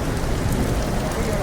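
Heavy rain pours outdoors in a loud, dense, close-up hiss that stays constant without a break.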